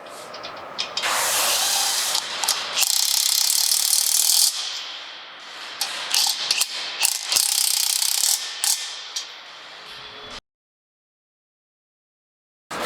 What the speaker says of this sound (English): tighten up your nuts on the inside.